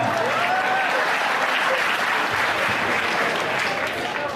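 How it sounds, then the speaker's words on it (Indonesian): A crowd at a talk on nation and colonialism claps steadily throughout, a dense, even wash of applause that stays loud from start to finish. "Tuh, tepuk tangan, tepuk tangan."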